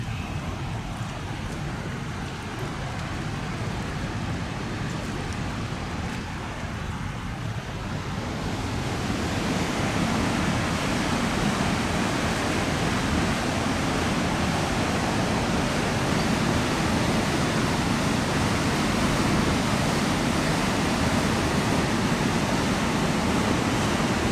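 A river flows steadily through a park, its broad rushing wash constant throughout and swelling noticeably louder partway through, with no voices.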